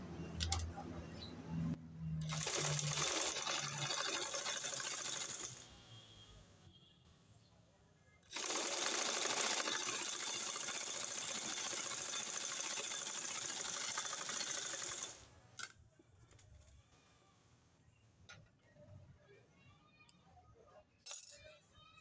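A sewing machine stitches hijab fabric in two long, loud bursts of rapid mechanical whirring, with quieter handling and rustling of the cloth in the pauses between them.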